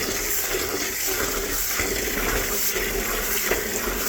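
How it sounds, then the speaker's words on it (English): Kitchen tap runs steadily as vegetables for homemade piccalilli are rinsed, a continuous broadband rush of water that stays even and fairly loud throughout, with no talking. "So get the tap running."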